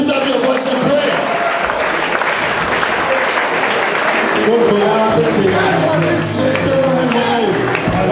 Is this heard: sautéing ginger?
no